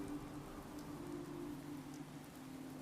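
Rain falling in Fallout 4 gives a steady, even patter with a low hum underneath, moderately quiet and unbroken throughout, with no voices.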